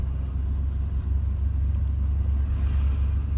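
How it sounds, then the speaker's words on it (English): Car rolling slowly through a beach campground lined with fifth-wheel trailers, a steady low engine rumble and road hum heard from inside the vehicle, with no talking. "I'm just driving through here because this is people's residence during the summertime"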